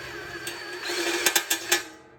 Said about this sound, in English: I'm going to drill a little bit from this side